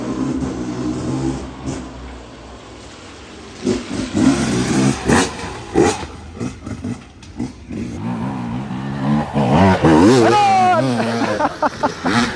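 An enduro motorcycle at a Bergama enduro race revs and accelerates in bursts at middle distance, with rising engine pitch sweeps near the end, heard under excited voices talking.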